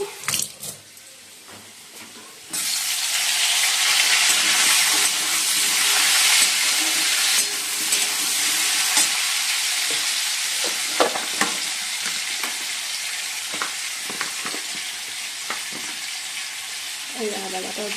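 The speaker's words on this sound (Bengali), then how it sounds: "আলুগুলো তো ভেজে নিচ্ছি" Potatoes frying in a pan in a home kitchen, a loud steady hiss that starts abruptly after a few quiet seconds and continues with intermittent clinks and scrapes of stirring.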